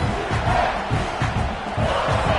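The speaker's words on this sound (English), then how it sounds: "This crowd going to try to make life miserable for these guys." A football stadium crowd roars continuously, a dense, loud wall of cheering and shouting with swelling surges and no single voice standing out.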